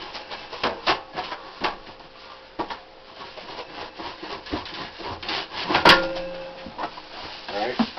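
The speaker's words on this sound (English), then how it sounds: "I'm taking the screws out." Screws being taken out of a wood stove's metal smoke pipe make scattered scraping, creaking clicks and rubs, with one sharp metallic clank partway through; someone speaks intermittently under the work.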